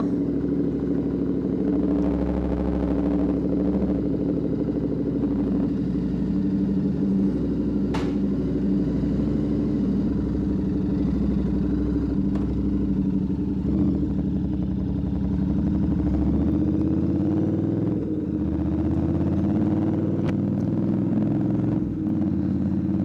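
A Royal Enfield GT 650 twin idling after a cold start, a loud, steady, close low rumble with even engine pulses lasting throughout, no talking.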